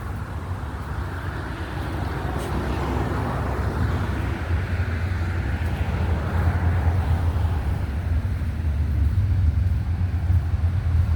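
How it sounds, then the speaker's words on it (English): Road traffic passing outside an old 1872 county jail in Cambria County, a steady low rumble and whoosh of vehicles with wind noise that continues throughout. "Sorry about the traffic."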